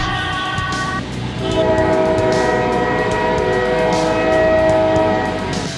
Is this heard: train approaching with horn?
yes